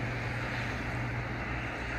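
Steady outdoor wind blows across the microphone for two seconds, a constant broadband rush with low rumble and no gaps, heard alone with no talk, near a canal lock at Salterhebble with remnants of snow around.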